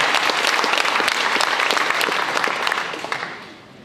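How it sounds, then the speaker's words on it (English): A round of applause fills a high school gym at Dobyns-Bennett's signing day for Trey Morrissette, dense steady clapping from a crowd that tapers off near the end. "Let's give him a round of applause if we could, please"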